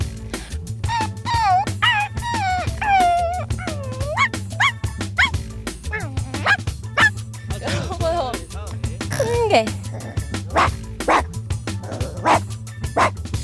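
A person imitates a dog with their voice, making a long run of close, loud barks, yips and whimpering howls in quick bursts as a small, scared dog in a strange place, over a steady low hum.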